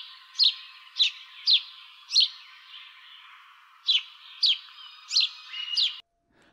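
Mated pair of house sparrows near an outdoor eating area in Port Alberni, Vancouver Island, giving a series of eight sharp, evenly spaced chirps over a faint background hiss.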